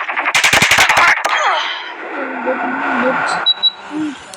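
Rapid machine gun bursts and sniper shots ring out in a shooter video game, a dense volley in the first second followed by scattered fainter game sounds and effects, with a voice speaking during the action.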